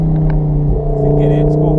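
Audi R8 engine held at a steady, loud rumble as the clutch slips, with a brief dip and surge in the middle and continuous low drone throughout; a voice is faintly present.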